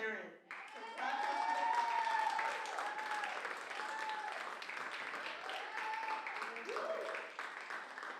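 Applause from a school poetry showcase audience, a sustained burst of many hands clapping and held steady for several seconds, with a voice speaking over it throughout.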